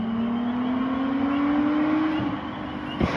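A car with a Nissan VQ engine revs hard, its steady rising drone building and then easing off, followed by a brief mechanical clunk near the end.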